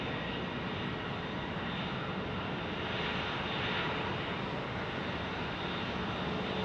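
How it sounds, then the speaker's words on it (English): An Airbus airliner approaching Phoenix Sky Harbor Airport fills the air with a steady, broad engine roar that swells slightly midway, with no voices. "we've got an Airbus inbound to us"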